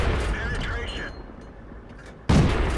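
Tank gun firing in World of Tanks on the Malinovka map, a sudden loud boom near the end that cuts through a quieter rumbling battle background, with someone talking earlier.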